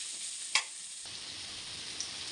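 Steady, bright sizzling of bitter gourd sautéing in a pan, with a sharp clink of a utensil near the start and a softer tap later.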